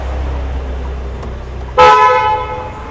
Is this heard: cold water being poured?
no